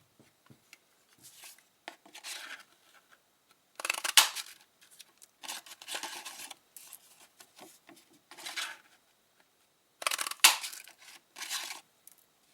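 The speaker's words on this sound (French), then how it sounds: "je vais perforer 2 fois dans ce morceau de papier pour avoir mes 2 serres" A paper punch perforates a scrap of paper twice during a creative papercraft project, giving short crisp clicks and crunching snaps in separate bursts, close and fairly quiet, with light handling rustle between them.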